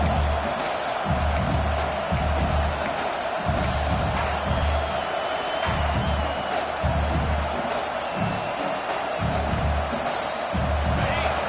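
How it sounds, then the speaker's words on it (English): Home crowd at a college football game between Michigan and LSU roars continuously, a dense, loud wall of stadium noise with pulsing swells throughout. "this home crowd is fired up and ready to make a difference today"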